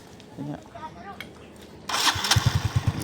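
Someone speaks briefly, then a Suzuki Raider J Fi motorcycle engine cranks and catches, firing into a loud, pulsing idle close by.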